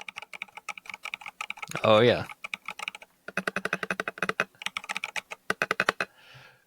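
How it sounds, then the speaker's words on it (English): Typing on a mechanical computer keyboard, rapid clattering bursts of keystrokes close to the microphone with short pauses between runs; a person speaks briefly partway through. "Here's a little sound check on the keys."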